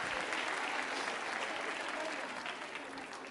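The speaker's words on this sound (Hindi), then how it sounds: "तालियां जोरों से बजाइए दोनों के लिए।" Applause for quiz contestants at a women's college and club quiz show: a dense, continuous crowd clapping, moderately close, holding steady and tapering slightly at the end.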